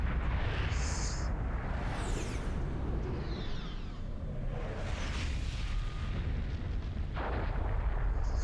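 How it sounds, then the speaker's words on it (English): A nuclear bomb detonating in the video game Drakengard, a dense rumbling roar with rolling blast bursts and debris hiss sustained throughout, loud and close with no talking. "someone dropped a fucking nuke, didn't they?"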